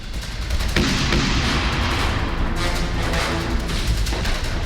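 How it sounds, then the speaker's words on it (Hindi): Russian bombing and artillery strikes on Ukrainian military sites during the Russia–Ukraine war make a loud, dense roar of booms and rumbling blasts that runs continuously and heavily, with no voices. "यूक्रेनी सैन्य ठिकानों पर चुन चुन कर रूस बम बरसा रहा है।"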